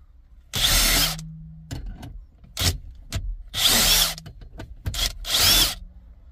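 A power drill unfastens interior trim screws in a Ford Focus MK4 Vignale, running in three loud, close bursts of high whine separated by shorter spins, clicks and handling noises, with no talk.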